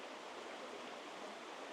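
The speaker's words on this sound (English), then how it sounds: "With the gurgling water," A stream gurgles in a steady, soft hiss of running water, faint and continuous throughout.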